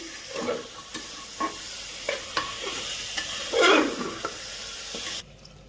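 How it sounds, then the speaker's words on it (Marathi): A spoon stirs a spiced mutton curry mixture in a pot, making repeated scraping strokes about once a second over a soft sizzle, then stopping abruptly. "चांगलं मिक्स करून घेऊ"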